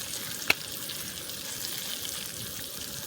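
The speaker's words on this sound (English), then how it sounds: "threw it in the frying pan. Heck, Gotta love that sizzle." Soft, steady sizzling of smallmouth bass frying in a pan, fairly quiet, with one sharp click near the start.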